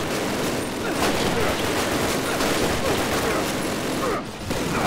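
Video game gunfire from a Call of Duty campaign mission, a dense continuous barrage of shots filling the whole stretch at steady loud level, dipping briefly near the end.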